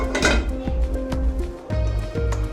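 A metal lid goes onto a pot of taro corms (kochur mukhi) boiling with a pinch of salt, giving several bright clinks and clatters close by over a steady background hum.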